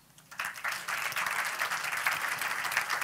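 At the opening of a film festival, the audience applauds the award winners. The clapping starts abruptly after a brief quiet moment, then holds as a dense, even roar of many hands heard from within the hall.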